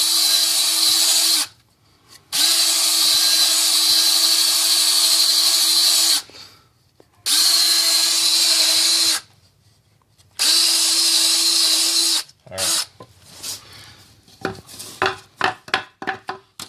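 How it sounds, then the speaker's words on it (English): A power drill whines through wood in three long, steady bursts with short pauses between, followed by clattering and knocking of wood and tools. "Make sure you stop the drill when you do that, or else you're going to drill your hand."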